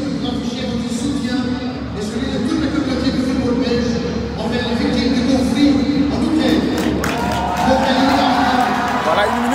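A football stadium crowd at Anderlecht's ground applauds during a minute of applause at a Belgium versus Burkina Faso match, a broad steady clapping wash that grows louder in the second half.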